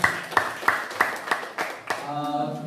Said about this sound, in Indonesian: tepuk tangan dulu Bapak Bosani